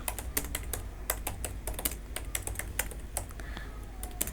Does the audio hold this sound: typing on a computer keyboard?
yes